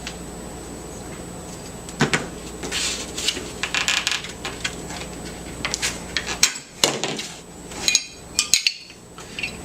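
A spring-loaded gun action is pulled out while held back, giving a run of close metallic clicks, clacks and sliding knocks, loudest in sharp bursts near the end.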